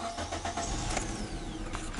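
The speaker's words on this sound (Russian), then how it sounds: "Заводим автомобиль." A Nissan Sunny with an ignition coil fault (code P1320) cranks and starts in a garage. The engine catches and runs close by with uneven bursts, and no one speaks.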